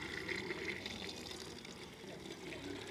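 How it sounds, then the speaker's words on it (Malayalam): Melted honeycomb with dead bees mixed in, poured into a filter to strain it: a steady, close liquid pour and trickle that runs unbroken for about three seconds. "അപ്പോൾ അതിൽ നിന്ന് അരിക്കാൻ വേണ്ടിയിട്ട് ഈ ഒരു ഫിൽട്ടറിൽ ഒഴിക്കുകയാണ്"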